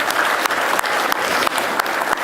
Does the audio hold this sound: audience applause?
yes